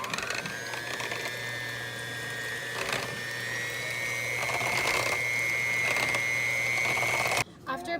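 An electric hand mixer whirs through challah bread dough of beaten eggs and bread flour, a steady high motor whine that climbs slightly in pitch, then cuts off abruptly just before the end.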